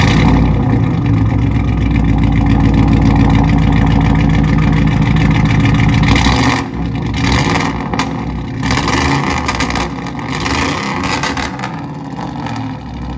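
A pickup truck engine with angle-cut exhaust tips rumbles loud and close, holding a heavy revving growl before dropping off sharply, then answering with several shorter throttle blips.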